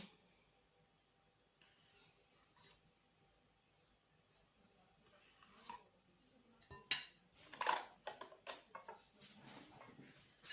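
A spoon stirs dinner ingredients dressed with sour cream in a bowl, giving faint scattered scraping and clinking, quiet at first and then a cluster of louder clinks toward the end.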